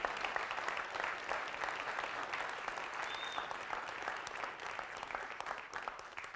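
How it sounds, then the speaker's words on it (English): A lecture audience at a talk on income inequality breaks into sustained applause, a dense, steady wash of many hands clapping at an even level for the whole stretch, with no voices on top. "If you can help me give a round of applause"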